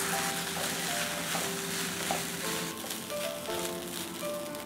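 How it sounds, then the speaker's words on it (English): Cooked basmati rice stir-fried with salt for Schezuan fried rice gives a soft, steady sizzle with light stirring, faint and continuous under some tonal background music. "To this, we'll add some cooked basmati rice and salt. We'll mix this well and cook for 2 minutes."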